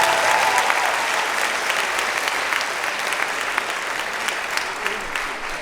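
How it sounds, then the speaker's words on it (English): Audience applause at an outdoor vegan camp-out cooking talk, a dense, steady wash of clapping from a crowd that carries on throughout and slowly eases off toward the end. "Alex, if you give her a little clap."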